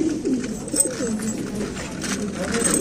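A flock of roller pigeons coos softly and continuously, low murmuring calls close by over light background noise.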